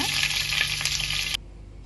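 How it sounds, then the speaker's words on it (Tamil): Mustard seeds and curry leaves frying in hot oil for bitter gourd poriyal, a loud close bright sizzle that cuts off abruptly near the end. "கடுகு போட்டுனதும் கருவேப்பிலை போட்டுக்கோங்க."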